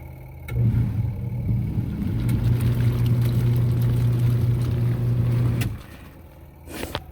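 A Giantex EP21684 portable mini washing machine with a clear tub spins with a steady, loud motor hum and sloshing water for about five seconds, then stops, heard close with no talking.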